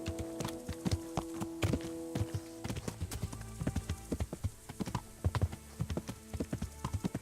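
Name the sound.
horse hooves clip-clopping, Kingdom Come Deliverance video game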